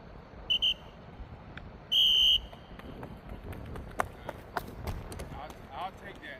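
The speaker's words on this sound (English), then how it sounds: "what I'm going to do is blow 2 whistles" Two sharp whistle blasts during outdoor training, a short one followed by a longer one, amid footsteps and low background noise.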